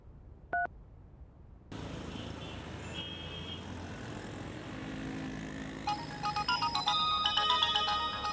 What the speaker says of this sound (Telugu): రాజా దగ్గర నుంచేనమ్మా ఫోను.